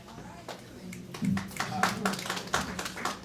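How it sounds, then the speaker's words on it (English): Scattered hand claps from a small audience at a DC Council candidate debate forum, loose and uneven, mixed with room murmur and talk in the background. "No more clapping over there, right?"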